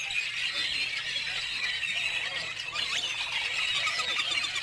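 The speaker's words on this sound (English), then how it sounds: "Don't you love the sound of birds?" Wild birds call at a pond in the Cibola Wildlife Refuge, a dense, steady chorus of high squeaky chirps and squeals from many birds close by, with no talk over it.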